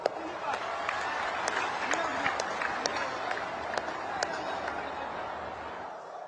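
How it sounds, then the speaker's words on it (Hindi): A large crowd applauds at a political rally in Guwahati, Assam, producing steady, continuous clapping with sharper individual claps standing out and a voice talking over it. "हो जाए ताली आज आपके नाम पर।"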